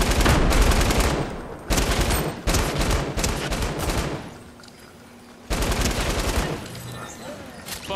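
Gunfire in the video game Fortnite, dense rapid bursts of automatic fire that come in long loud stretches broken by a short lull, close and harsh throughout.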